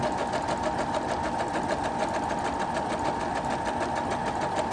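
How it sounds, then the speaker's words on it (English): A sewing machine stitching with a twin needle on a straight stitch runs steadily and loudly throughout, a fast even mechanical whir with rapid rhythmic needle pulses and no voices. "I haven't used this sewing machine in a while, so we're gonna see how it works"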